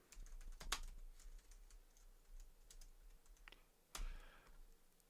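Quiet, rapid tapping on a computer keyboard comes in irregular bursts of keystrokes, with a few louder clacks, close by and alone.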